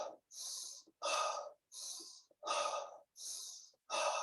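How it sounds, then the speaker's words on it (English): Four quick, sharp breaths in and out during a guided breathing exercise, each a short rushing puff of air, evenly spaced and close, with no talking. "you take 4 quick breaths"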